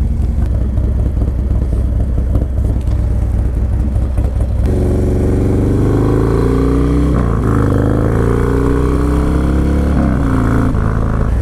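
A Harley-Davidson Dyna Low Rider S motorcycle engine rumbles loudly up close, clattering at first and then revving up and down through rising pitches as it rides.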